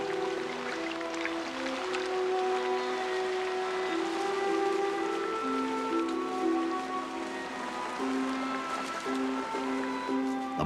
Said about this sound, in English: the monsoon lashes India with steady sheets of rain